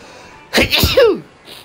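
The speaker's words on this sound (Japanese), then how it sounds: "あとくしゃみも" A single sharp, close sneeze, with a quick inhale leading into an explosive burst, followed by a brief faint rustle.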